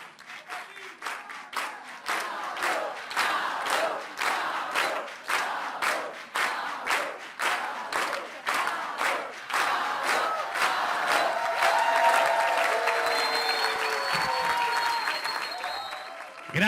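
A theatre audience in San Juan claps steadily for a monologue performer, with rhythmic, sustained applause and some cheering that carries on for over fifteen seconds before fading slightly.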